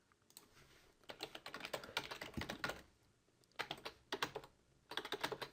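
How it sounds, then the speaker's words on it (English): Typing on a computer keyboard, bursts of quick close key clicks separated by short pauses, with no voices. "If I can type here"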